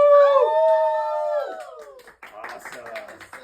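A dog's howl rises loud and close, holding a long wavering tone for about a second and a half before trailing off, followed by softer yips and whimpers.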